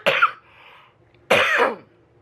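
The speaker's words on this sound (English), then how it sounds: "See? I'm coughing." Two separate coughs sound up close, each a sharp, raspy burst followed by a short gap.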